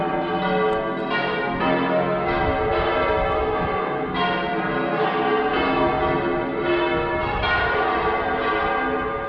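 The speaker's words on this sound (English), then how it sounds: "Church bells in the Grand Cathedral." Large cathedral bells in Seville ring out in a steady, overlapping peal on a cold early morning, resonant and sustained, with no voices.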